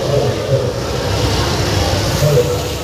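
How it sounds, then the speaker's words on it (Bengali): Inside a local train pulling out of Bhowanipore station in Kolkata, a steady rolling rumble with low droning hum fills the carriage, with faint voices murmuring in the background. "তো এখন আমাদের ট্রেন ভবানীপুর স্টেশন থেকে ছেড়ে দিয়েছে।"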